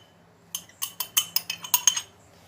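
A spoon stirs yeast and yogurt together in a bowl, giving about nine quick clinking scrapes in an uneven rhythm, close and fairly quiet, with no talking.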